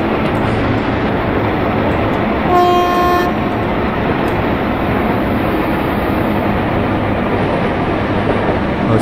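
A WAG 7 locomotive hauling the Thrissur Express on the Kerala Valley route in a train simulator game sounds one short horn toot over a loud, steady rumble of the train rolling into a platform.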